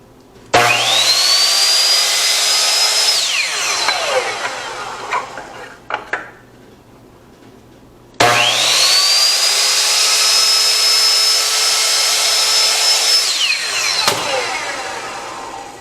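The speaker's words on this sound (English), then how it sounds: "I'm just going to give them a little buzz on the chop saw." A chop saw buzzes through the wooden corners of a glued phone stand in two separate cuts, each a loud rising whine that holds steady for a few seconds and then winds down, with a short clatter in between.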